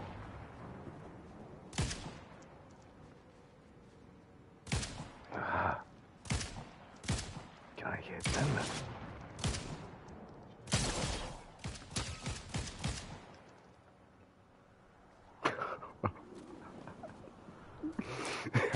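Gunfire traded at long range in Fortnite, scattered single shots and short bursts broken by quiet gaps and echoing off into the distance.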